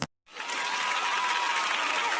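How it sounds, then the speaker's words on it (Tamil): A crowd applauds a contestant in an uriyadi pot-breaking game. After a brief silence, the clapping rises into a loud, dense, steady roar of many hands that continues to the end. "எல்லாரும் தங்கள் கைத்தட்டுகளை தருமாறு அன்புடன் கேட்டுக்கொள்கிறோம்"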